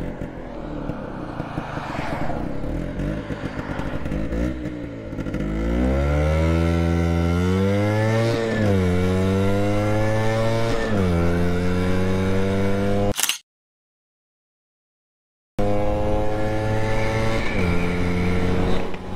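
Vespa PX 125 scooter fitted with a box exhaust revving hard and accelerating through the gears toward top speed, loud rising engine whine with pitch climbing and dropping at each shift, broken by a short silent gap.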